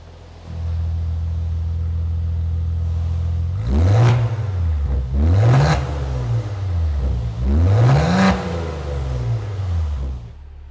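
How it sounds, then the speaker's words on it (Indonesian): A Maserati Levante S GranLusso in sport driving mode gives a loud, deep exhaust note, starting with a steady idle rumble before three sharp revving blips that rise and fall in quick succession, with no talking. "kalau kita aktifkan mode berkendara sport, suara knalpot akan berubah menjadi garang"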